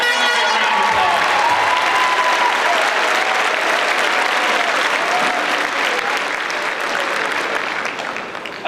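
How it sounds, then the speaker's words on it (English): A large crowd applauds teachers and coaches at a high school graduation ceremony, loud, dense clapping that holds steady for several seconds before easing slightly at the end. "Let's give them a big round of applause."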